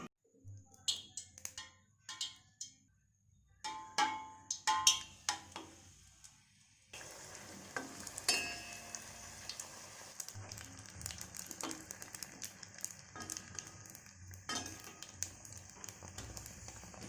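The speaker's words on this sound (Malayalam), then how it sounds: "അപ്പോൾ ഇനി ഇതുപോലെ എല്ലാം റെഡിയാക്കിയിട്ട് നമുക്ക് ഫ്രൈ ചെയ്തെടുക്കാം" Puris for pani puri fry in hot oil at home, with scattered taps and clicks at first, then a steady, crackling sizzle that fills the rest of the clip at moderate loudness.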